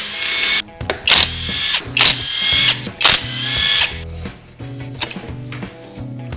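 A power driver whirs in several short, loud bursts with ratcheting mechanical clatter between them as bolts come out of the inner engine cover on a 1987 Honda CR500 two-stroke dirt bike.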